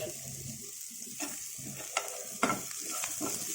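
Onions with green chillies stirred as they fry in a pan, a steady soft sizzle broken by a few louder scraping strokes of the spoon, close and alone with no talking.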